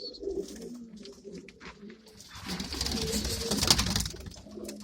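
Pigeons in a loft coop coo softly at close range, with low repeated coos and a busier stretch of overlapping calls and flutter-like rustle midway.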